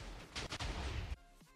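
A cannon firing in Minecraft during a faction raid: a burst of loud booming blasts for about a second, then it cuts to near silence with faint tonal ringing.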